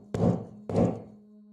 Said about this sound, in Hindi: दरवाजे पर 3 धीमी और नपी तुली दस्तकें।